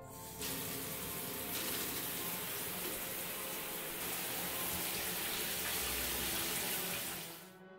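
Shower water running in a home bathroom, a continuous broadband hiss of spray that starts abruptly, holds steady for several seconds, then cuts off.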